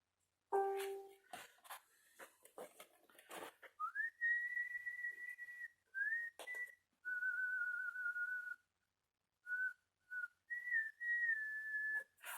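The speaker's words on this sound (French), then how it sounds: "Je sais pas pourquoi je me mets à siffler" A woman whistles a tune nearby in a quiet room, sustained melodic notes broken by short pauses, with faint clicks and handling noises between phrases.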